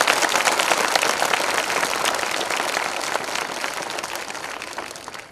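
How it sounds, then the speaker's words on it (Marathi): A crowd at a Shiv Sena campaign rally applauds in a thick, continuous wash of clapping. It stays loud throughout and fades slightly at the close. "शिंदे साहेबांच्या करता एकदा टाळ्या वाजून तुम्ही त्यांना आशीर्वाद द्या"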